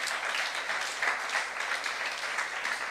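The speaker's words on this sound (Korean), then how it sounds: "박수 주시기 바랍니다." A church congregation at a youth service applauds in a sustained, dense patter of clapping that holds steady for about three seconds, with no speech over it.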